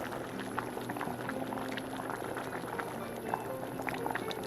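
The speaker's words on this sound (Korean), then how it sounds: "미역국이 끓기 시작하면 간을 맞춰줍니다." Korean seaweed soup (miyeokguk) with soup soy sauce boils steadily in a pot, a continuous bubbling with small popping bursts throughout, close and moderately loud with no talking.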